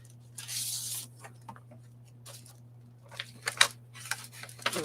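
A paper envelope is cut open, with soft crinkling and a rustling burst, then snips and papery taps against a steady low electrical hum, quiet and close.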